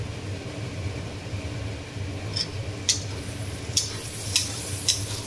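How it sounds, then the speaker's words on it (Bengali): Spices sauté in oil for a spicy mutton curry, a low continuous sizzle broken by a handful of scraping spatula strokes at a steady pace, with no one speaking. "মশলা কষানো হয়ে গেছে"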